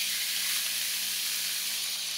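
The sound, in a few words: rib-eye steak sizzling in a hot pan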